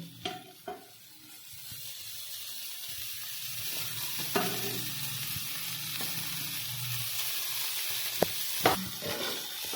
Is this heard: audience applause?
no